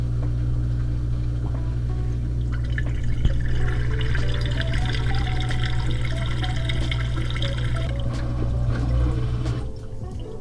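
A FOTILE VersaWash SD2F-P5/L in-sink dishwasher drains water with a steady low pump hum and gurgling flow, trickles and splashes rising midway before the drain noise cuts off near the end.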